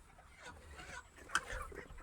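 A flock of chickens on a poultry farm clucks faintly and steadily in the background while being rounded up in the dark, with one brief sharper squawk in the middle.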